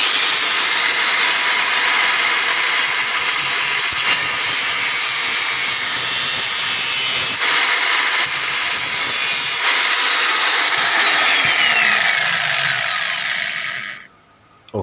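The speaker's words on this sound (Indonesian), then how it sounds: "akan saya potong menggunakan gerinda." Angle grinder cutting through an AC valve, a loud, steady, high-pitched grinding whine held close for about fourteen seconds before cutting off abruptly.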